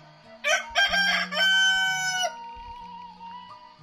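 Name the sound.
roosters crowing in the morning in a village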